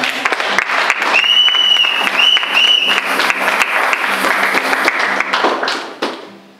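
A church congregation applauding, with dense sustained clapping that fills the room and holds steady for several seconds before tapering off, along with some cheering voices.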